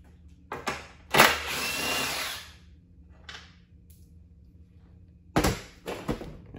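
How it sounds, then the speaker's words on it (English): A Tecton 1/4 inch socket set working the top cover bolts on a Briggs engine: short, close bursts of rapid ratcheting and clicking, one longer run near the start and a pair of quick bursts later, separated by quiet pauses. "I'm using my Tecton 1/4 inch set to go ahead and remove this."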